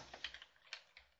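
Quiet, close clatter of keys as code is typed on a computer keyboard, a short burst of several soft clicks.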